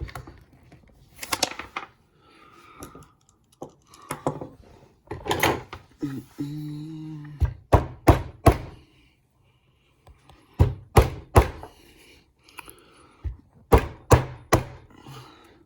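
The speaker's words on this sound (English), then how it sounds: "Whack the bolts back in." Bolts being refitted on the MAF sensor of a Ford Transit Connect give close, sharp clacks and thunks in uneven clusters, with brief gaps and a little talk between them.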